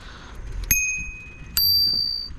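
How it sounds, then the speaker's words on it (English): Two bright metallic dings from a bicycle bell, rung twice about a second apart on a bike ride, each tone ringing out clearly over faint road noise. "I got 2 bells here."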